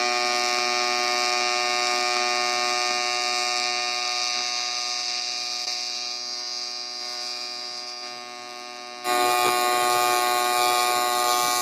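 An Everlast MTS 225 welder runs an arc on aluminum, giving a steady, harsh electric buzz with strong humming tones that holds for the whole stretch and jumps louder near the end.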